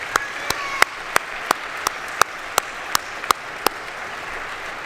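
Applause at an athletics complex announcement event, heard as sharp, evenly spaced claps from one nearby person beating a steady rhythm over a faint background of wider clapping.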